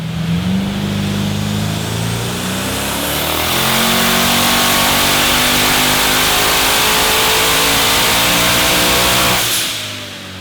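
A street car engine with a fully counterweighted crank, run on a dyno, revs up loudly in one long rising sweep, holds near the top, then drops off abruptly near the end.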